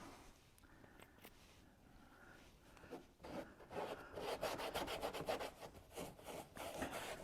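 Soft rubbing and wiping strokes across car trim, clearing off excess product. The strokes are quiet at first, then become a louder, steady back-and-forth scrubbing.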